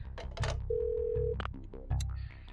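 An emergency phone at a save point in the video game Parasite Eve 2 gives electronic tones and a sustained beep amid short synthetic menu sounds, close and clear.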